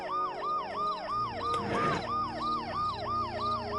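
An ambulance siren in the point-and-click adventure game Dead Synchronicity wails in a steady repeating rising-falling cycle, loud and close, with a short crash-like burst of noise breaking through the middle.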